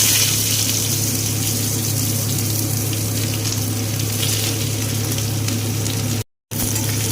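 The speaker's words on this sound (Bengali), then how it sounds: "এবার এতে দিয়ে দেব আগে থেকে কেটে রাখা কুচনো পেঁয়াজ।" Chopped onion dropped into hot oil with fried cumin seeds sizzles steadily and loudly, a continuous bright hiss over a low hum, with a brief dropout near the end.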